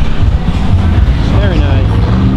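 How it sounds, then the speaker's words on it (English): A Mercedes-AMG Black Series car drives past with a loud, broad engine roar that stays steady across the moment, while people talk over it. "there goes the AMG Black Series"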